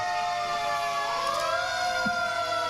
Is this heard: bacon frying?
no